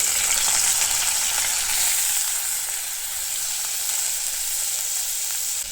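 Garlic and onion frying in hot oil, a loud, steady, close sizzle that holds evenly from start to finish with no talking.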